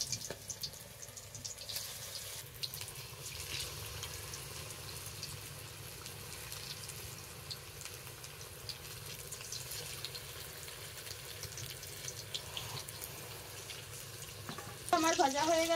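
Batter-coated banana flower fritters fry in hot oil in a village kitchen, a continuous hiss and bubbling that runs steadily for the whole stretch, with a voice talking over it and a louder clatter near the end.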